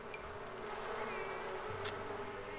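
Steady insect-like buzzing from bees kept in The Sims 4 Seasons, with the honey in poor condition, droning continuously at moderate level with a faint rise near the end and no talking.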